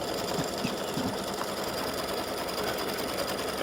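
An embroidery machine begins satin stitching on a St Patrick's Day beer mug freestanding-lace earring and pendant design, giving a fast, continuous, close needle buzz that stays even throughout with no voices.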